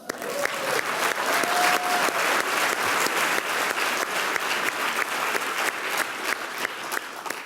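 Audience at an Oxford Union debate during Oxford Forum 2019 applauding, a dense, sustained clapping from a large crowd in a hall that keeps an even level for the whole stretch.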